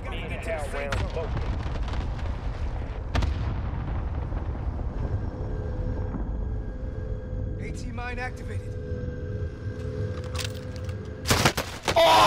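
Shots and explosive bursts boom in a video game firefight, with scattered blasts and rumble under players talking over each other.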